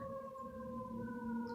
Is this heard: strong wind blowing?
no